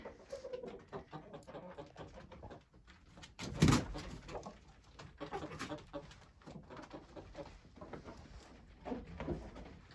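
Domestic hens sit on their perch inside a village henhouse, giving soft, continuous murmuring calls at close range, with one brief louder knock or thud partway through.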